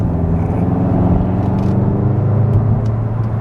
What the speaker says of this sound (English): you can certainly hear that engine work